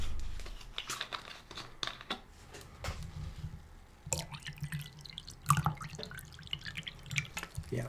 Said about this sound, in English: sorry for the water noises, but I definitely need to drink something